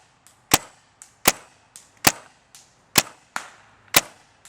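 A paintball gun fitted with an Apex barrel fires five loud, sharp shots at steady intervals of under a second, each followed by a fainter secondary pop, with no talking.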